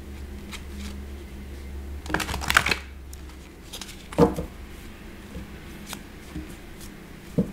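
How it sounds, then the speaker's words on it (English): Oracle cards for a life purpose reading are handled and shuffled, a few brief papery riffles and taps over a quiet background hum. "Okay, so I'm going to pull out life purpose cards."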